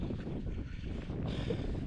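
Strong wind gusting across an abandoned quarry lake during a fishing trip, a constant low rumbling buffet against the microphone, fairly close and steady, with no voices.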